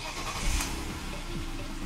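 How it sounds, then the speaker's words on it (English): A car engine cranks and catches during a brake fluid level check, then settles into a steady idle hum, close by and without talk. "I start the car and I observe the light."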